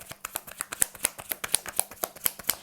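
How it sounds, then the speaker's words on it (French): Tarot cards are shuffled by hand in a quick, close riffle of crisp flicks and taps, evenly paced over a few seconds with no talk. "je vais tirer quand même quelques petites cartes pour compléter un peu"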